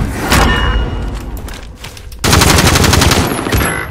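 Loud, sustained automatic gunfire in Warzone, a dense close rattle that dips briefly and then resumes even harder, with a heavy thumping low end throughout.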